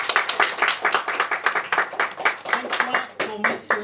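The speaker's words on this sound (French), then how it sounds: "On l'applaudit." An audience applauding at a community games event, a brisk burst of steady hand clapping close by, with a voice coming in toward the end.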